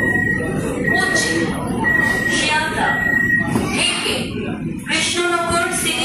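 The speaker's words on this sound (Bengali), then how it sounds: "সবে ট্রেন এসছে, দেখা যাক কী হয়" An air-conditioned local train on the Sealdah–Krishnanagar line arriving at a platform, with rumbling wheels, a sustained metallic squeal and brake hiss, and people talking nearby over the noise.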